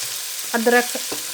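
Potatoes and eggplant with onion sauté in a pan, a soft sizzle with a few quick stirring scrapes and clinks over a faint frying hiss.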